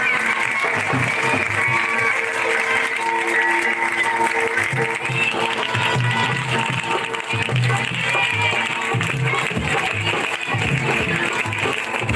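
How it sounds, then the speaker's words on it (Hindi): Congregation clapping during a Sunday worship service, steady sustained applause filling the room alongside music with tonal accompaniment throughout, no pause in the clapping. "ऊंची आवाज के साथ ताली बजाकर"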